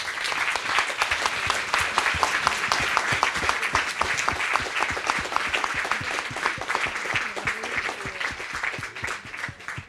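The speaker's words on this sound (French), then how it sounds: "on peut aussi applaudir Michael Rock et le remercier." An audience claps steadily after a talk, a dense, lively round of applause that holds for several seconds and then starts to thin toward the end.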